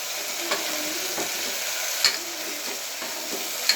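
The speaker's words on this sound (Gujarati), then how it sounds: "મરચું નાખ્યું છે, બધા મસાલા મિક્સ થઈ જાય એટલે એને હલાવી નાખવાનું" Whole cluster beans frying with chili powder and spices in a curry pan, a continuous moderate sizzle with a few soft spoon scrapes and clinks as the mixture is stirred.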